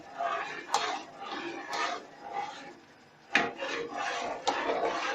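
A spoon stirs milk in a pot while kulfa ice cream is being made, giving repeated scraping, rubbing strokes against the metal in an uneven rhythm, fairly close, with a few sharper knocks.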